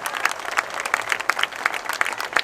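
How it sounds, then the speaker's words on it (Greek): Crowd applauding Olympic champion Spyros Gianniotis, the final torchbearer, at the Olympic flame lighting ceremony in Corfu; steady, dense clapping at moderate distance with no talk over it. "Ας χειροκροτήσουμε τον Ολυμπιονίκη μας Σπύρο Γιαννιώτη, τελευταίο λαμπαδιδρόμο της διαδρομής"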